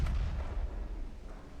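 Naval artillery booms from a heavy gun salvo in the Ultimate Admiral Dreadnoughts warship game. A loud, deep blast opens and then rumbles and decays over a second and a half.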